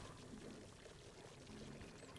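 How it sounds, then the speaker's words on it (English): Water pours steadily in a resource-building video game, a continuous faint gushing stream with no breaks. "We could also put in water"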